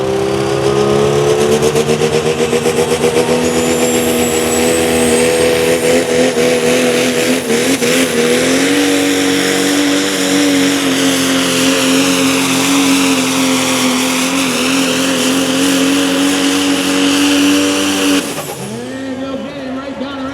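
A Dodge Cummins diesel pulling truck sponsored by DeKalb Corn roars steadily at full power for a long, loud pull at a truck and tractor pulling event, then cuts off abruptly near the end.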